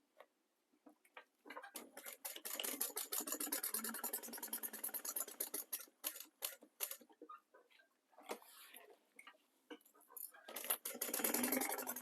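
A home sewing machine basting fabric pieces together runs in a fast ticking patter, stopping and starting in short bursts with brief pauses, close and fairly quiet.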